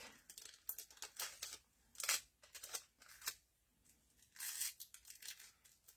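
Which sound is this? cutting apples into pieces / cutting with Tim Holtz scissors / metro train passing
cutting with Tim Holtz scissors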